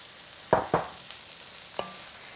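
Carrot strips, zucchini and Chinese cabbage being stir-fried in a pan give two quick, sharp utensil clacks close together, a faint tap, then one more clack, over a quiet sizzle.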